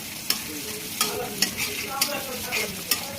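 Chopped onion and green chili fry in hot oil for noodles, a close, bright sizzle punctuated by about six quick spatula scrapes against the pan at a steady stirring pace.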